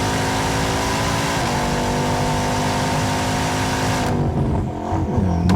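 Bugatti Bolide hypercar engine roaring loud and close, a steady high-revving howl with dense harmonics that drops off abruptly near the end into a lower rumble.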